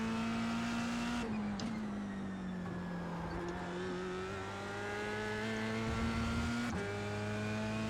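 An F3 race car engine in a racing video game holds a steady high-pitched drone, with abrupt gear changes and throttle lifts breaking the tone, near and loud with no voices.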